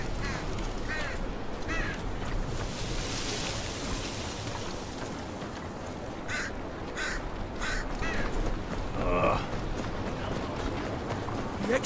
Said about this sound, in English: Oh, damn shitting crows.